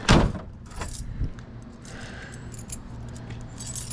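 Keys jangle close by in a sharp opening burst and then several lighter rattles, heard during the installation of a used Howe ice flaker, with faint background noise and no talk.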